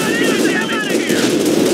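Rapid bursts of gunfire from the Company of Heroes 2 video game, set in the Ardennes, crackle loud and close in quick machine-gun rattles.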